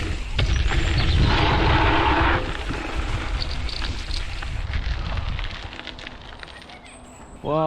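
Wind buffets a microphone on a windy day at the snow park, giving a heavy, rumbling roar that is loudest for the first couple of seconds and then eases into a lighter, gusty hiss.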